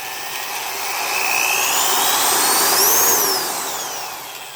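Skil 1/2 inch corded drill running at variable speed, a loud close motor whine that rises steadily in pitch as the trigger is squeezed, peaks, then falls back down.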